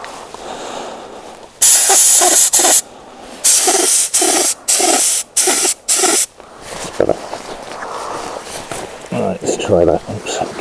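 Short bursts of hissing compressed air from a paint spray gun laying base coat on a Fazer 600 motorcycle, loud and close, broken by pauses, with someone talking between bursts.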